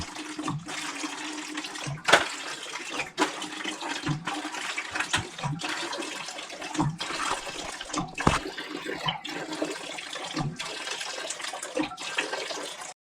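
Water drains from a Weil McLain boiler, pouring and splashing steadily into a bucket for over ten seconds with a few sharp knocks along the way and no talking.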